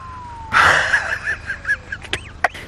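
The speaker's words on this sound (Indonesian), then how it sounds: "terdengar sirene polisi yang menuju ke arahnya" A police siren sounds in a brief series of rapid, warbling pulses that rise in loudness, mixed with a few sharp incidental noises, with no talking.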